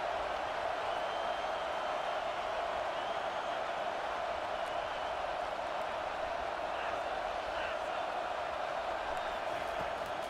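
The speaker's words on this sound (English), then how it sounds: "Decibels rising as the crowd gets behind this defense on 3rd down." A stadium crowd in a college football video game keeps up a continuous loud roar for the full stretch, a dense even wash of cheering noise with no clear breaks.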